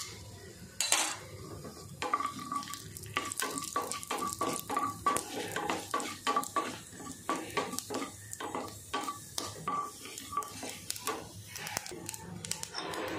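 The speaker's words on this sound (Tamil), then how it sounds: "ஆயில் காஞ்ச உடனே கடுகு உளுத்தம் பருப்பு போட்டுங்க." Mustard seeds and urad dal crackle and sizzle in hot oil in a pan for a chicken liver fry, with steady popping and repeated stirring clicks of a utensil against the pan, fairly close and with no talk.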